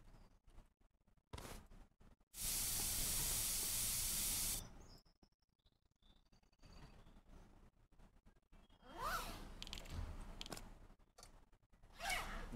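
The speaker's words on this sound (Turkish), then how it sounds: "Sprey." Aerosol spray can from Internet Cafe Simulator gives one loud, steady hiss lasting about two seconds, set among quieter game sounds and clicks before and after.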